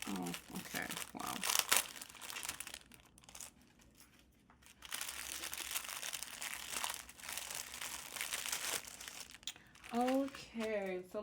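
A paper envelope is opened with crisp crinkling and a few tearing rips in bursts, close by, while a person talks over parts of it.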